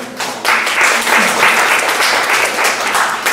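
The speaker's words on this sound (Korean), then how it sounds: "큰 박수로 맞아주시고요." An audience at a coworking demo day event applauds to welcome a speaker, dense clapping that swells in after a brief pause and holds steady and fairly loud, with no talk over it.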